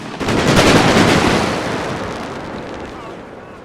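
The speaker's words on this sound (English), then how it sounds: "I'm also bringing out the assault infantry, and I believe they're about to throw some grenades." Grenade explosions from assault infantry in a World War I battle in The Great War: Total War mod, a loud booming blast swelling early then rumbling and fading away amid distant battle noise.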